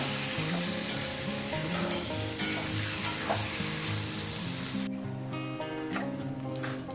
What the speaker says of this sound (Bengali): পাঁচ ছ মিনিট এটা একটু কষে নেব